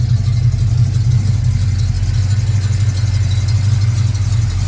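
A restored 1973 Dodge W200 4x4 pickup with its rebuilt 360 V8 and stainless mufflers runs at a steady idle, a loud, constant low exhaust rumble with no talking.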